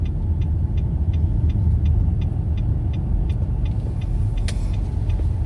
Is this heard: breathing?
no